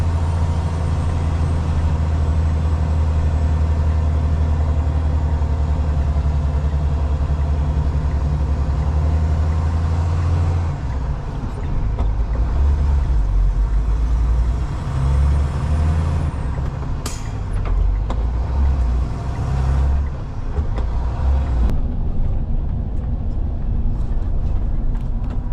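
A heavy truck engine drones loudly and continuously as it labours up a steep, punishing climb on a Sumatran road between Palembang and Dumai, with sharp air hisses breaking in near the end.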